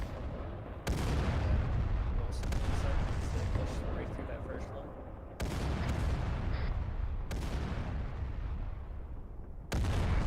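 Artillery fire and explosions in the video game Arma 3, a continuous heavy rumble broken by several sharp booming onsets, loud and dense throughout.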